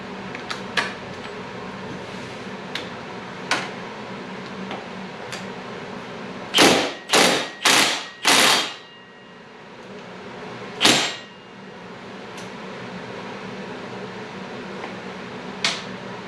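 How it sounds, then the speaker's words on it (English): Bolts on the rear brake rotor of a 1979 Harley-Davidson Shovelhead FLH are worked loose, a quick run of four loud ratcheting whirs followed by one more, with scattered faint clicks and a low background hum. "we're going to start by loosening the bolts on the rotor and try to get that apart"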